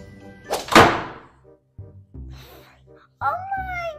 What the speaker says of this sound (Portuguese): a Amanda bateu com a porta na minha cara